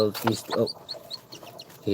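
A newly hatched chick, born two days early and in poor condition, peeps in a quick series of thin, high chirps close by, with a voice talking at the start and end.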